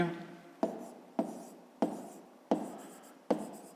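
Pen on paper writing out a maths answer, five or six sharp strokes at a steady rhythm, each a quick tap trailing into a scratch, close and alone.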